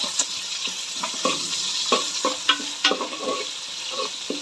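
Curry leaves with their stems tossed into a simmering Kerala-style tuna fish curry with kudampuli, followed by steady stirring: a continuous frying sizzle with repeated spoon scrapes and clacks against the pan, close and fairly loud.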